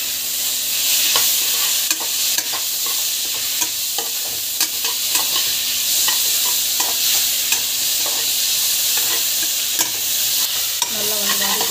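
Tomatoes and biryani masala sautéing in a pan, a constant bright sizzle punctuated by repeated spoon clinks and scrapes against the pan throughout, no voices.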